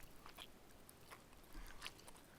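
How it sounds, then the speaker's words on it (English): Close, intimate chewing of chicken right against a microphone, soft wet bites and mouth sounds over faint background hiss. "I hear you chewing."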